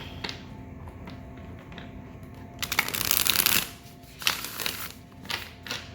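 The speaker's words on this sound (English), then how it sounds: "Good shuffle." Tarot cards riffle and shuffle close up, a quiet rustle building to a crisp burst of flicking, then a few softer slides and taps.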